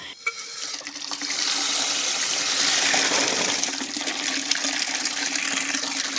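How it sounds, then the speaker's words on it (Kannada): Water gushing steadily out of a borewell submersible pump pipe, a loud continuous splashing roar with no talk. "ಇಷ್ಟು ನೀರು ಬೀಳ್ತಾ ಇದೆ ಹಾಗೆ ನೋಡಿ ಇಷ್ಟು ನೀರು ಇಲ್ಲಿಂದ ಔಟ್ಪುಟ್ ಹೊರಗಡೆ ಹೋಗ್ತಾ ಇದೆ"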